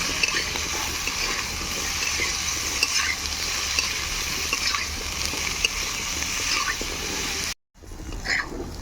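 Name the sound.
frying potato and eggplant with turmeric and salt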